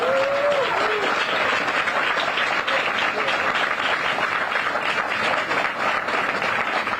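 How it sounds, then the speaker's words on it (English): A groundbreaking-ceremony audience gives steady, dense applause that holds loud and even for about seven seconds, with a brief whistle-like tone near the start and no speech over it. "maybe we can do one clap for the King Boston team"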